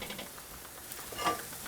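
Chicken sizzling on a charcoal grill, with a soft, steady crackle and faint spits over about two seconds, quiet and close.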